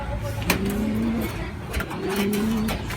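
Racing pigeons at a training session give two soft, rising coos, close by and moderately loud, over a steady outdoor background hum.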